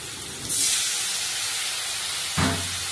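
Water poured into a hot pan of cauliflower, potato and paneer curry bursts into a loud, steady hissing sizzle that swells at once and holds, with a second surge near the end.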